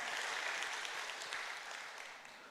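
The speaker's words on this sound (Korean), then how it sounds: "우리 모두를 해서 박수 한번 드릴까요?" A church congregation gathered for a new year district joint worship service claps together, a broad steady patter of many hands that tapers slightly toward the end.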